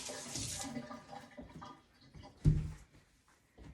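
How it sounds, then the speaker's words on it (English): Running water rinses hands at a kitchen sink while energy balls are being made, a splashing rush at the start, then lighter dribbles and a louder splash near the end. "Just going to rinse off my hands real quick."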